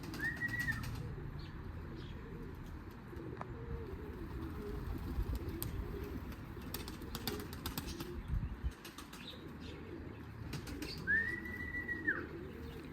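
Two-crested play pigeons in Lenger flutter in to land while soft cooing rises twice, once at the start and once near the end, over a faint, steady outdoor background.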